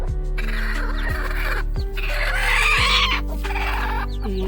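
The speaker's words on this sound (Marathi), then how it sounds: "कोंबड्या 15 अंड्यांवरती बसवल्या आहेत." Desi hens brooding on clutches of eggs make repeated harsh, caw-like clucks close by, several calls spaced through a continuous low background hum.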